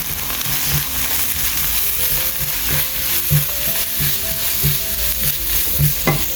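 Ginger garlic paste sizzles loudly with fried onions in a pan for butter chicken, while a spoon stirs and scrapes in a regular rhythm throughout.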